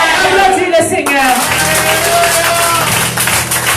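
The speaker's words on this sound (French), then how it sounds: "Applaudis le Seigneur." A church congregation claps in praise amid loud singing and voices, with steady, dense clapping under music.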